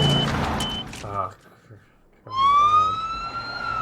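A police car siren in the 1987 film Planes, Trains & Automobiles rises in a steady wail after a short lull, loud and close, following a burst of engine noise and brief talk.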